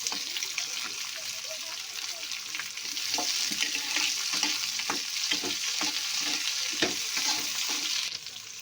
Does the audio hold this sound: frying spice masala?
yes